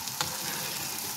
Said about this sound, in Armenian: Հիմա սոխը մի քիչ տապակում եմ և ավելացնում ենք հավի